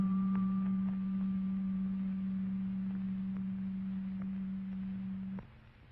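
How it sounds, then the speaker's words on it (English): A steady pure tone at G below middle C, a single sustained pitch held evenly and fairly quiet for about five seconds, then cut off abruptly, heard alone without any voice. "Next, we hear G below middle C."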